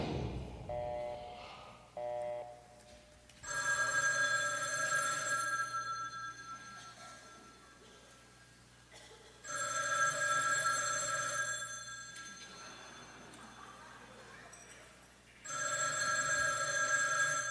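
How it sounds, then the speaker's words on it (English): A telephone ringing in three long electronic bursts separated by pauses of near silence, with brief tonal beeps at the start; no talk over it. "And I answered the phone,"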